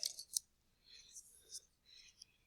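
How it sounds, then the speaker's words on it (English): Playing cards shuffled by hand during a simple probability demonstration: quiet, crisp papery riffles and flicks in a few short bursts over a couple of seconds, close by and soft, with no talking. "Shuffle them up."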